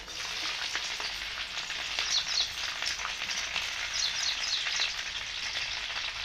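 Garlic fries in oil in a pan for a village-style mango pickle, giving a close, steady, crackling sizzle with a fine, constant texture and no voices.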